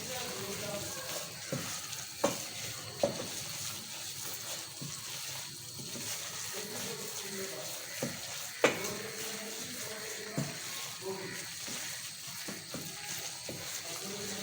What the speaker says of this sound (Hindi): इसको छोड़ना नहीं है, इसको भूनते रहना है, बिल्कुल हाथ रुकना नहीं चाहिए।